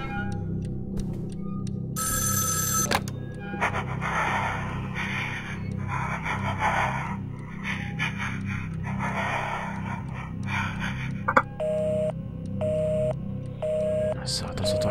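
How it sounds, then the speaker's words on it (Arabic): A telephone ringing in the horror video game Evil Inside, repeated electronic ring bursts over a low droning game ambience, with someone talking over it. "التليفون يدق"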